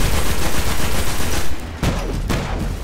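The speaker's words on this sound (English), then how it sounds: "See if the shotgun fares a little better at close range here." Loud close-range gunfire in the game Destiny, a dense roaring blast sequence with a couple of sharper shotgun-like reports near the end, with no talk over it.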